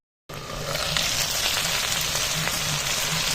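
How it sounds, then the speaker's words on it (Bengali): Tandoori chicken pieces sizzle on a clay stove in a steady, hissing fry that starts abruptly and continues evenly at moderate loudness, with no voices. "এপাশ প্রায় ভাজা হয়ে গিয়েছে। এখন আমি মাংসগুলোকে উল্টে দিব।"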